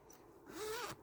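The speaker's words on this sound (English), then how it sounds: "And it's got a zipper on the top. Let's unzip it." A zipper on top of a small cat-themed makeup bag or pencil case is pulled open in one quick, close, rising rasp in a quiet room.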